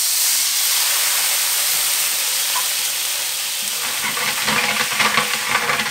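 Water is poured into a hot pan after searing a ribeye steak, releasing a loud, steady hiss of steam and sizzle that turns rougher and bubblier toward the end.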